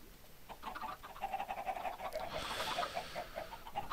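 Chickens cluck in Minecraft, a soft run of short, repeated clucks in a steady pecking rhythm, fairly faint and heard alone without talk.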